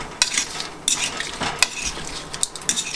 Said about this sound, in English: I usually get a fork because I don't like touching it and getting my hands dirty. So I just mix that around real quick